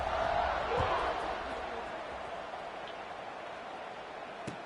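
A college football stadium crowd before kickoff, a broad steady roar of many voices that sits loud at first and eases slightly, with a commentator talking over it.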